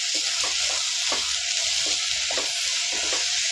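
Cauliflower for a chutney being stir-fried in a hot pan, a steady bright sizzle with repeated scraping strokes of a spoon pushing the pieces around, close and continuous with no voices.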